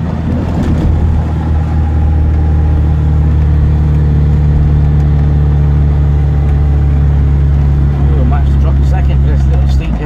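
A 1974 Fiat 128 SL coupe on the road in gear, engine droning steadily with strong low harmonics from inside the cabin, a brief shift in pitch near the start, with talk heard beneath.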